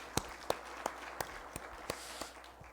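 A church congregation at a lay retreat's opening worship claps in thanks, a faint run of about eight crisp, evenly spaced claps with quiet room tone between them.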